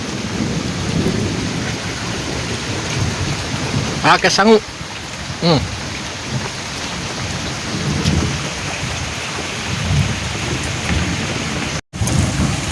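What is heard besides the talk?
heavy rain with thunder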